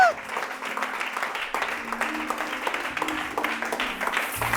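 A church congregation breaks into steady, sustained applause after a sermon, many hands clapping together at close to medium range for several seconds, with voices mixed in.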